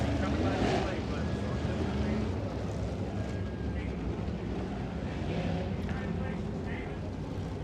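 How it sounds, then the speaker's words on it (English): Deep, steady engine rumble from a field of 600-horsepower modified race cars on the SMART Modified Tour at Franklin County Speedway, rolling at pace before the green flag, with a commentator's voice over the continuous roar. "You hear the rumble of 600 horsepower."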